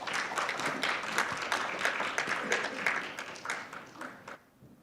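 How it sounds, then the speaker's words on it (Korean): An audience at a journalism conference applauds to welcome two speakers to the stage, a dense clapping crowd that holds steady and then fades away near the end. "박수로 맞아주시면 감사하겠습니다."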